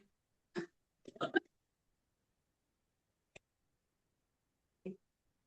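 A short throat clearing during a yoga session, a couple of brief guttural bursts followed by faint isolated clicks and sounds amid near silence.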